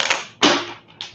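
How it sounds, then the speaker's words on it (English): Tarot cards are shuffled up close in two quick riffling bursts, the second louder and trailing off, followed by a brief soft flick, with no talking. "One more shuffle."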